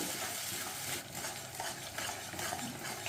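Tomato paste with spices cooking in a pan over a low-to-medium gas flame, a steady close sizzle of frying with scraping stir strokes running through it, no talk.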